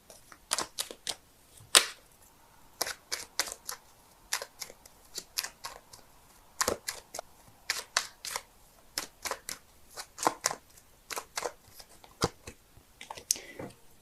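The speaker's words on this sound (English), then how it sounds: "so give me a sec while I shuffle." Tarot cards being shuffled by hand in a quiet room: a long run of crisp, irregular riffling snaps and flicks, close and fairly loud, with brief pauses between bursts and no talking.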